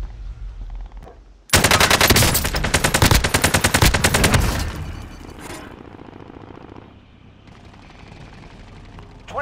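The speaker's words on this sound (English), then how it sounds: "Oh no, I'm being shot!" Loud burst of rapid automatic gunfire aimed at the player in Rebirth Resurgence, a battle royale video game, hammering for about three seconds before fading into quieter game noise, with a few voices talking faintly.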